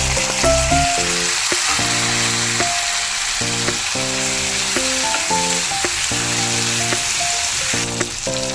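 Curry leaves, chopped onion and garlic fry in hot oil for a bitter gourd tamarind curry, giving a steady loud sizzle that runs the whole time beneath continuous background music with no talking.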